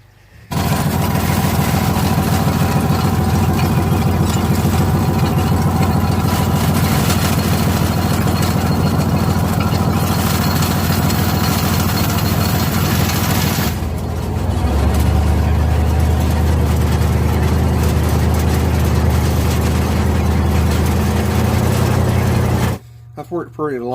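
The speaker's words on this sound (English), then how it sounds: "The rear end of this car is very loud, so you can hear that in fourth gear" A 1967 Chevelle with a four-speed swap drives in fourth gear, its loud rear end whining under a heavy, steady engine and drivetrain drone that shifts in tone partway through and cuts off abruptly just before the end.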